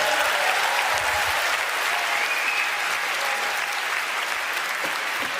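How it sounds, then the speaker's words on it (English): Sustained applause fills the hall at a debate after police remove a person, a dense, even clapping from a large audience that carries steadily for several seconds with no speech over it. "A big round of applause for the Toronto Police Services this evening."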